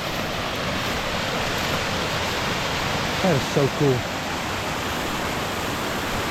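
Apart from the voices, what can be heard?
waterfall on Little Cow Creek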